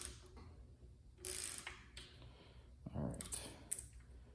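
Ratcheting clicks from loosening a valve lash adjuster on a 1962 Chrysler Slant Six engine, a few short bursts of mechanical clatter at close range with quiet gaps between them.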